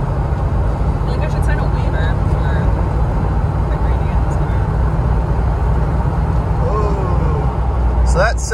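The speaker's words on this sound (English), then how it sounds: "All right, we're turning onto the expressway here." A 1988 Range Rover Classic short-wheelbase cruising onto an expressway, with a steady loud cabin roar of engine and road noise throughout, and a voice talking over it near the end.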